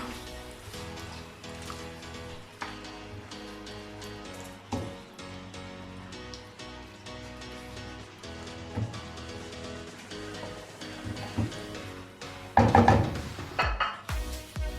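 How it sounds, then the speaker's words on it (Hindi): Yogurt is stirred into beef karahi in a pan, with repeated scraping clinks of a metal spoon against the pot, irregular and close, building to a louder clatter near the end. "अब इसमें दही डाल देंगे, अच्छे तरीके से मिक्स कर लेंगे।"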